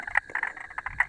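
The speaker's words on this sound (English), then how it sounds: "Now that there is definitely a spotted marsh frog." A spotted marsh frog calling in a series of quick, bright croaking pulses, close and moderately loud in a brief burst with no talking.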